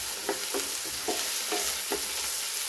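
Peas and capsicum fry in a pan with a continuous bright sizzle, broken by a steady series of about six scraping strokes of a spoon stirring the vegetables, close and without talk.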